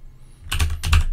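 Code is typed on a computer keyboard in two quick bursts of close, crisp key clicks over a faint low hum, with no voice.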